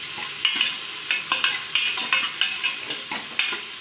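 Chopped onion and garlic fry in a pan for a village-style goat head meat curry, a steady close sizzle broken by about a dozen regular scraping stirs of a spatula, with no voices.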